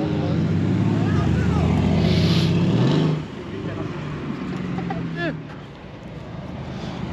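A Ford GT's loud engine roars close by for a few seconds, then drops to a lower rumble as it moves away, with people talking over it at a car event.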